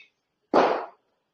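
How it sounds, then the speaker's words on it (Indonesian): A single sharp firework pop bursts near a house, loud and brief, fading within half a second into silence. "ini lagi rame di dekat rumah orang bakar kembang api sama suara motoran"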